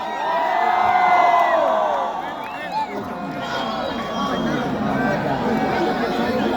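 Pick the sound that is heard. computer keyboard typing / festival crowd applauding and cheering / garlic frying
festival crowd applauding and cheering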